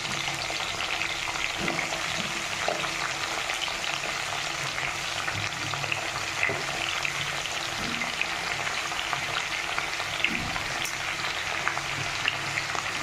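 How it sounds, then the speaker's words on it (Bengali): Cut cauliflower florets frying in hot oil in a pan, a steady dense sizzle with crackling spits that runs throughout at moderate loudness, with faint stirring knocks now and then. "ফুলকপিগুলো কেটে নিয়েছিলাম, সেগুলোকে ভাজতে দিয়ে দিলাম।"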